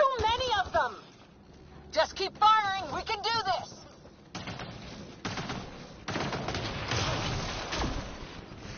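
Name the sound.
gunfire in the video game Mass Effect 2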